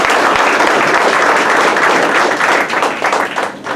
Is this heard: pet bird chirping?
no